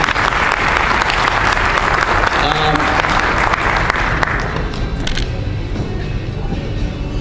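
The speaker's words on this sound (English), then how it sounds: "Please give them a big hand of applause." A crowd applauds loudly and steadily, the clapping dense and sustained before gradually thinning out.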